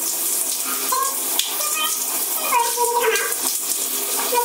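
Running water from a tap rinses styling product out of curly hair, a steady close splashing wash that continues throughout, with a little movement as the water hits hair and hands.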